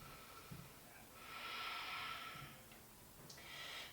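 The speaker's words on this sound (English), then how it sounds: "Keep breathing. Stay with that ujjayi." Ujjayi breathing during a vinyasa yoga flow, slow audible breaths with a soft hissing rush swelling and fading twice, close and faint, with no talking.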